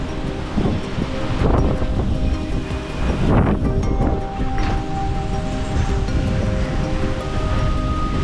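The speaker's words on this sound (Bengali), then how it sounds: "প্রচন্ড তুফান হচ্ছে বন্ধুরা।" Strong storm wind buffets a rooftop, producing a loud continuous roaring rush with heavy gusting and microphone wind noise throughout, and no talking.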